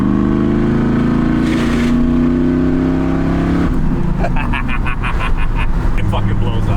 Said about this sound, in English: Joe, these are all added in sound effects of your motor.